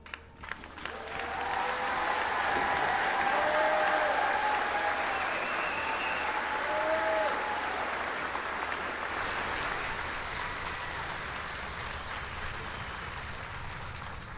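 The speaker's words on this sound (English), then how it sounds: "please join me in a round of applause for our retiree" Sustained audience applause fills a hall at a Fort Jackson Army retirement ceremony, a dense, steady clapping from a large crowd that swells quickly and slowly fades, with a voice briefly audible over it.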